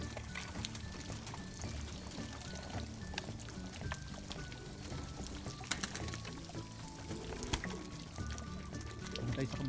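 Water poured into a bath for pigeons, a steady trickle under a busy, noisy outdoor background.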